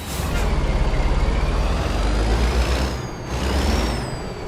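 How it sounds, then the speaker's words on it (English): A heavy truck engine from the American Truck Simulator game rumbles loud and steady throughout, with a sharp hiss of released air-brake pressure near the end and no talking. "You can hear that engine too. Listen to that."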